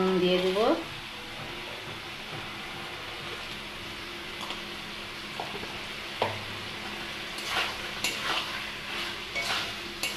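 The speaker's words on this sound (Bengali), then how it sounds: "এবারে আমি আলুগুলো দিয়ে আবার খানিকটা কষবো।" Potatoes frying in an oily spice masala give a steady sizzle, with a spoon scraping and stirring against the pan in intermittent strokes. Faint talk sits briefly at the start.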